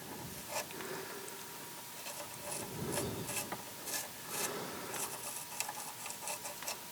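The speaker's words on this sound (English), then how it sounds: "So it fits in there, you spin it around, gives it a really nice clean." A cleaning tool spun inside a female XLR connector gives a close, dry scraping rasp that runs in uneven bursts for several seconds, with no one speaking.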